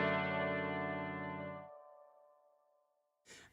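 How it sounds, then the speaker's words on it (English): A sustained electric guitar chord rings loud and full, then cuts off and leaves a long reverb tail fading to silence, with a brief burst of a new sound at the very end. "listen to the decay of this guitar before going into the new section"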